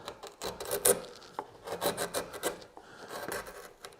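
A gouge scrapes and rasps across wood while carving a spiral seashell, in a string of short, quiet, close strokes with uneven rhythm.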